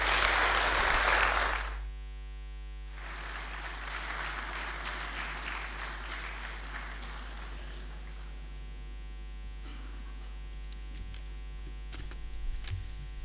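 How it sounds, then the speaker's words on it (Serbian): Crowd applause at a Srpska lista political rally in Leposavić, a loud burst of clapping for about two seconds that drops off abruptly, leaving a steady mains hum with faint scattered claps. "Molim da ga pozdravimo velikim aplauzom."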